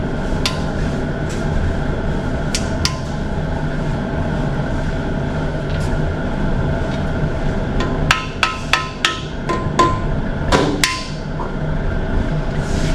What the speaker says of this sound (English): little plastic hammer or plastic headed hammer.